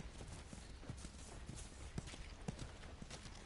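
Horse hooves clip-clop at a walking pace in The Last of Us, with soft, regular hoof strikes under a steady ambient game backdrop, growing slightly more distinct midway through.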